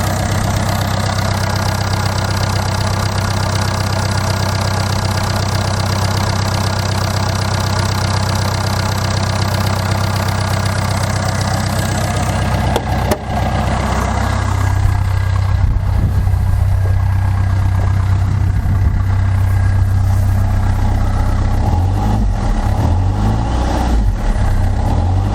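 A car engine idles steadily with its airbox disconnected and the MAF sensor unplugged, a loud continuous low rumble whose pitch shifts partway through, alone and close.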